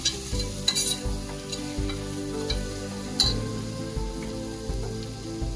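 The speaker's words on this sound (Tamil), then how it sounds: "பெரிய தக்காளி கட் பண்ணி போட்டு நல்லா வதக்குங்க" Tomatoes sizzle and crackle steadily in a hot pan while being stirred, with occasional scrapes and light clinks of a utensil against the metal.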